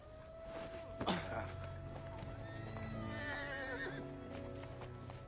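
A horse in a movie scene gives a loud whinny near the start, set over a continuous bed of hoof clip-clop and ambient scene sound, with a faint tonal drone and a distant voice briefly audible.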